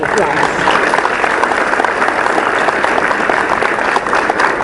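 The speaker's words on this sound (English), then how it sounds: "Please give them a round of applause." Audience at a community organization presentation in Orlando, Florida bursts into loud, dense applause, many hands clapping steadily and close, with no speech over the sound.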